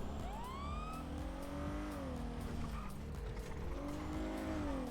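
Nissan GT-R car driving in the video game GTA V, its engine a steady loud drone with rising and falling pitch sweeps as it accelerates and shifts, tire squeals and mechanical clicks mixed in throughout.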